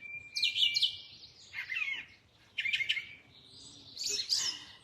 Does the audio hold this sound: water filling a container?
no